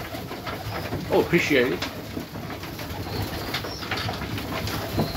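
Pigeons coo in a loft kept for Serbian Highflyer juniors, a soft, throaty burst that rolls under a brief spoken remark, with steady ambient noise around it.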